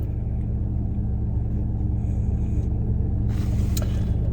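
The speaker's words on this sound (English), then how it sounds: "I'm letting the car warm up a little bit." A car engine idles steadily while warming up before a drive to work, a constant low rumble heard from inside the car, with a faint rattle near the end.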